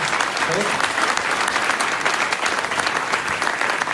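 Applause from an audience at a tech meetup after a talk, with a continuous, even roar of many hands clapping throughout and faint crowd murmur underneath.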